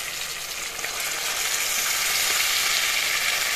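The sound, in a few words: water added to fish curry with tomatoes, sizzling in pan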